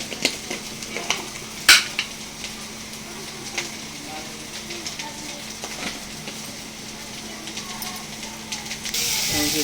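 Sliced onions frying in a pan as spices and salt go in for an iftar dish, with a soft continuous sizzle under repeated scraping stirs, a sharp metal clank, and a brighter hiss rising at the end.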